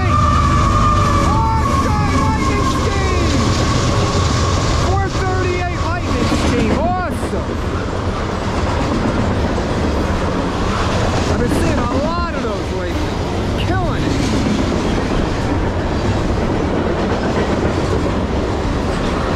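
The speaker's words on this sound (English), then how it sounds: "He's chugging. CSX M409, hammered down westbound." A CSX freight train running hard westbound, its locomotive and rail cars rumbling loudly and steadily with clickety-clack wheel noise and occasional squeals, close by throughout.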